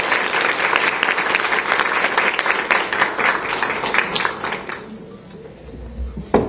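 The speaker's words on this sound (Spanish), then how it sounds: "Con aplausos del corazón, recibimos el mensaje de René" An audience at an event in Peru applauds to welcome René Mey, with dense, sustained clapping that thins out and fades near the end.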